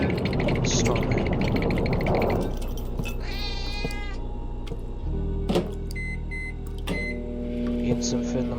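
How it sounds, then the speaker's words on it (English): A microwave oven hums while heating food in the video game The Operator, with a steady drone, a cat meowing, a few beeps and electronic tones, and speech over it. "Eating some food in the microwave."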